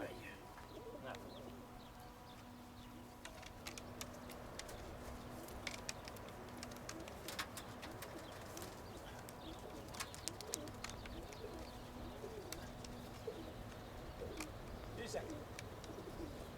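Pigeons coo in an evening pigeon loft, low soft coos repeating throughout with faint flutters and clicks, while people talk quietly nearby.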